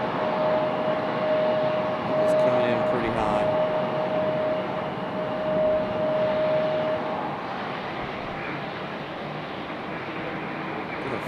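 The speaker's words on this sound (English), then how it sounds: "Nice touchdown for turboprop here" A Pilatus turboprop touches down at Raleigh-Durham International Airport, its engine drone and propeller hum fairly distant and steady, easing slightly toward the end, with a thin tone running through the first half.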